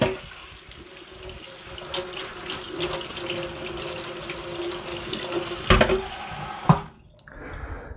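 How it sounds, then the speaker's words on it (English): Cold tap water runs into a sink as strawberries are rinsed, a steady splashing flow with a few louder knocks and clatters near the end before the water stops. "give these berries a good rinse,"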